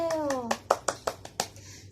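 Children clap for themselves at the end of a Thai children's song lesson: about eight sharp, uneven claps close by, following a brief rising voice.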